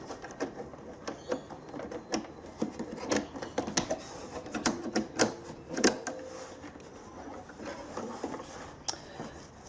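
Pfaff Ambition 630 sewing machine stitching an overcast edge on fabric, a fairly quiet run of uneven mechanical ticks and clicks with soft rubbing, heard alone without talk.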